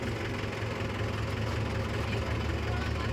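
A large lorry diesel engine driving a big generator runs steadily, a rough knocking rumble that stays constant throughout with no pauses.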